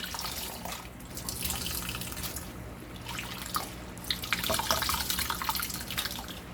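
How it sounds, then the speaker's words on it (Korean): Blanched pepper leaves soaked in cold water make splashing and dripping sounds at close range, with trickling water and small sloshes rising toward the end. "이렇게 한 번만 찬물에다가 담가서 꾹 짜주면 돼요"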